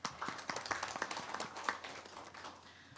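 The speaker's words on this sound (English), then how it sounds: "For them, a round of applause, please." Audience applause at a student organization program handover: a smaller group clapping in quick, uneven bursts, fairly quiet and a little distant, thinning out toward the end.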